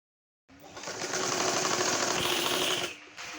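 A sewing machine stitches pleated frill fabric for a burqa in one continuous, rapid mechanical run of about two and a half seconds, starting abruptly after silence and stopping cleanly, close and fairly loud.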